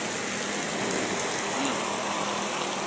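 Steady rain pours down on a flooded area during the La Niña rainy season, a dense, continuous hiss with no breaks and no voices.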